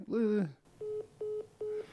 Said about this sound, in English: Let's go ahead and try to give these people a phone call.